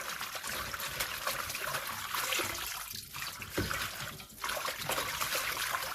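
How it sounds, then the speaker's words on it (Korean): Young radish greens are washed and shaken in a basin of water while making kimchi. Steady trickling and sloshing water with a few splashy bursts runs continuously at a fairly soft level, without talk. "이렇게 깨끗하게 3번 정도는 씻어서 흔들어서 이렇게 깨끗하게 씻어 주셔야 돼요"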